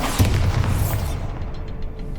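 Bombarda spell explosion in Hogwarts Legacy, a loud heavy boom with a rumbling low tail that decays over about a second into quieter crackling.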